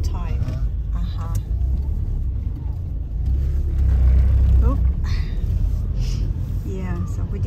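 A car drives through Gibraltar in wet, stormy weather, its engine and road rumble steady and close, swelling briefly as it moves, with people talking over it throughout.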